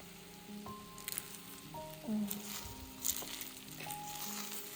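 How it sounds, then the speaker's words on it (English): Food crackles and sizzles steadily in a hot pan, a soft continuous frying hiss with faint tonal hums in the background. "can you hear the sizzle"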